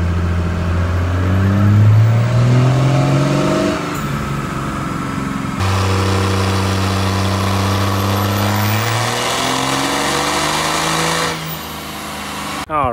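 A Cummins diesel engine with a 54mm turbo roars through two loud, sustained full-throttle pulls on a dyno, its pitch climbing steadily before dropping back between runs.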